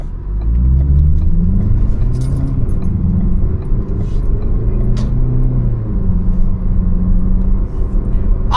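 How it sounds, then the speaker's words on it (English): A car engine rumbles steadily at idle, loud and close, with a low droning hum that wavers slightly in pitch, heard from inside the vehicle on a hot day. "Let's start the car because it's like 90 some odd degrees"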